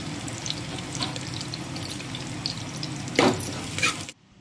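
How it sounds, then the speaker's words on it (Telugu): Onion, green chili and curry leaves fry in hot oil, giving a steady moderate sizzle with a louder crackling burst near the end before the sound cuts off. "ఆయిల్ వేడెక్కింది. ఉల్లిపాయ, పచ్చిమిర్చి, కరివేపాకు"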